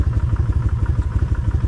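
A 1600 Vulcan Classic motorcycle idles nearby with a steady, loud, low rhythmic engine pulse and a faint light tapping riding on top, no talk over it.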